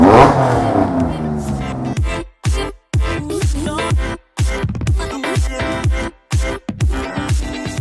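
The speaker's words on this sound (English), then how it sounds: "Love a good fat body Carrera." A wide-body Porsche Carrera revs hard nearby, the engine note rising in a long pull and then blipped in quick repeated bursts with short gaps, while speech sounds against the engine noise.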